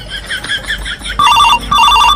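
A telephone rings in a home with repeated electronic bursts, two clear ring phrases following some softer tones and background murmur, loud and close.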